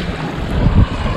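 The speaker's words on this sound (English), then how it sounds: "Maybe a little bit less wind would be nice." Wind buffets a microphone at sea aboard a boat off Rottnest Island, a loud rumbling low gusty roar with swelling bursts and no voices.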